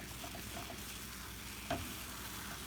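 White gravy for country fried steak is stirred in a pan, a soft continuous sizzle and bubbling with faint scraping strokes and one brief sharper clink, close and quiet.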